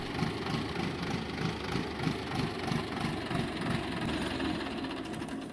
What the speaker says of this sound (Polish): głośny ten traktor jak cholera